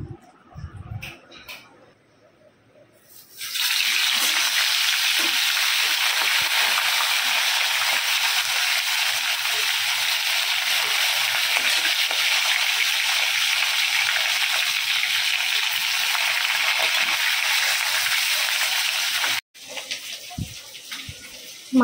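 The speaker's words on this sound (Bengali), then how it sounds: "এই এক পিস ভাজতে দিয়ে দিলাম" Pieces of fresh fish drop into hot oil in a pan and set off a loud, steady sizzle that runs unbroken for about sixteen seconds, cuts off briefly, then resumes more quietly.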